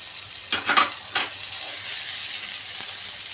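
Frozen peas and mushrooms sauté in a pan with a steady, loud sizzle, broken early by two brief scraping stirs, and nobody talks.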